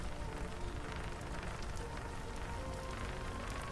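Rain falls steadily in the video game Pennycress, a dense pattering hiss of drops on surfaces with scattered sharper ticks, constant and moderately quiet with no talking.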